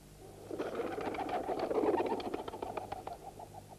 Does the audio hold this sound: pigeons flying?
yes